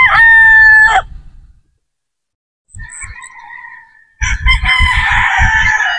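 Pure Boston Roundhead broodstag roosters crow close by: one loud crow at the start, then after a silent pause a fainter call and another strong crow with clucking underneath.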